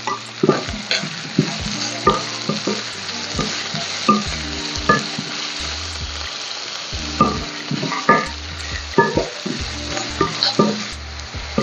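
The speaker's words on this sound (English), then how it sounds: "We have to cook these onions for about 6 to 7 minutes or till they change their color." Chopped onions fry in hot oil in a kadai, a soft steady sizzle broken by repeated scraping and clinking as a spoon stirs them against the metal pan, close up with no talk.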